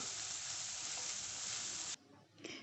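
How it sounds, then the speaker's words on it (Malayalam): Chopped green chillies and onion sauté in a pan with a steady, dense sizzle that suddenly drops away, followed by a brief quieter stir-scrape. "ഇനി പച്ചമുളകും സവോളയും കൂടി നന്നായിട്ടൊന്ന് വഴറ്റിയെടുക്കണം."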